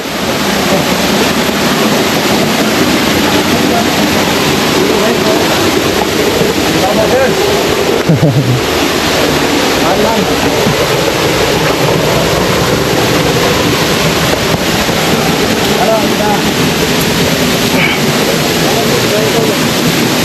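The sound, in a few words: hidden waterfall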